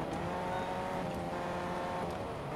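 A car in the Fortnite video game drives steadily toward a gas station, its engine a continuous loud drone that holds even for the full stretch with no pauses.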